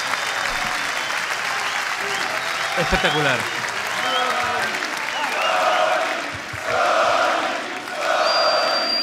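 A crowd at a rap battle applauds and cheers in a steady roar while a voice speaks over it, with swelling shouts toward the end.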